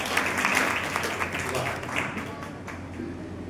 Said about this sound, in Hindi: बहुत सुंदर प्रोग्राम के लिए जोरदार तालियां हो जाए।